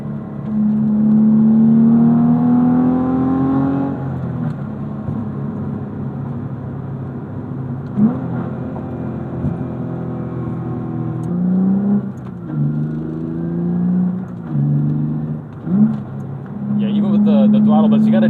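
A 2006 Mitsubishi Eclipse GT engine climbs in pitch repeatedly, with rising revs broken by short drops between upshifts, loud and close from the cabin, while someone talks over parts of it.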